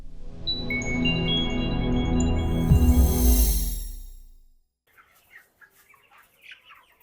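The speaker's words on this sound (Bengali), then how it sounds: "দেখেন মুরগি" A dense flock of chickens on a poultry farm clucks and chatters loudly and close for about four seconds, then the noise drops away abruptly, leaving faint scattered sounds.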